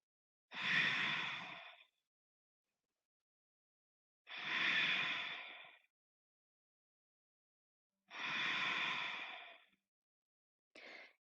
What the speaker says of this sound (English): 3 strong breaths.